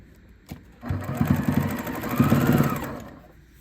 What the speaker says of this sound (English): I'm flattening it open and just top stitching it down